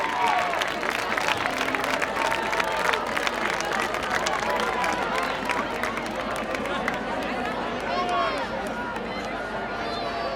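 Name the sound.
crowd applause for the freshmen passing the judging panel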